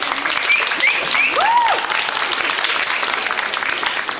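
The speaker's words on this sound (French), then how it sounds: "Je vous demande d'applaudir Vanessa, Olivia et Denisa." An audience at a regional Dance Trophy competition in Brittany applauds the jury with steady, dense clapping, joined by a few whoops and cheering voices.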